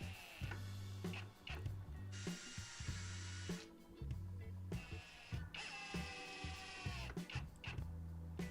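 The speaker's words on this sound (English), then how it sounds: "I drilled 2 pilot holes in each corner and added 2 screws" A power drill drives standard wood screws into pilot holes at the corners of a scrap-wood window frame, in several whirring bursts with ratcheting clutch clicks and short pauses, close by and quiet overall.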